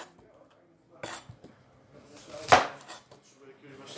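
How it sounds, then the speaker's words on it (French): A knife cuts a red apple into halves and quarters on a board, giving a few sparse knocks and scrapes with one sharp, louder chop near the middle, in a quiet kitchen. "je vais faire pareil avec voilà, la pomme rouge. Je coupe en deux,"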